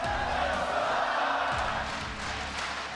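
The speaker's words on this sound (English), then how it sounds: "The San Francisco crowd chanting, "Let's go Cloud9,"" A large San Francisco arena crowd at the League of Legends Worlds group stage, during Cloud9 vs SKT, chants for Cloud9 in a steady, loud, reverberant roar that fills the whole stretch.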